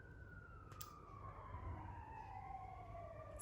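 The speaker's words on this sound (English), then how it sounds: "Sirens." An emergency vehicle siren heard from a distance, a faint wailing tone sliding slowly downward over low traffic rumble, continuous throughout with a brief click partway through.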